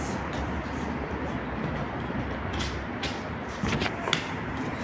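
A metro train at Kosmonavtlar station, a steady broad rumble and rattle of wheels and cars rolling through the underground, with a few sharper clanks near the end.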